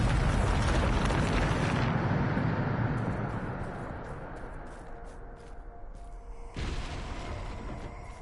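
A Bombarda spell blast in Hogwarts Legacy, a loud close explosive roar that rumbles and slowly decays over several seconds, followed by a second fresh burst of blast noise near the end.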